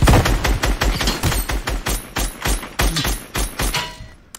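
Rapid bursts of turret gunfire in the video game Fortnite, loud and close, a dense rattling stream of shots that keeps going for several seconds before cutting off.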